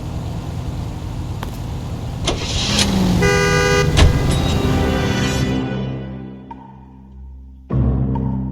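A car driving in the video game L.A. Noire, its engine droning steadily with a short horn toot partway through, the motor note dropping away near the end before surging back.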